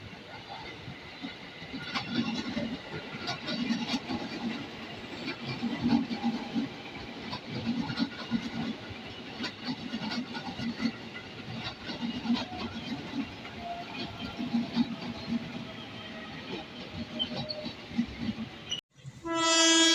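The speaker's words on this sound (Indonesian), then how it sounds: "Dari jalur satu segera masuk komuter tujuan Manggarai" A KRL commuter train pulls into Depok Baru station in the rain, its steady rumble and rail noise carrying on for the whole stretch before a short horn blast at the very end.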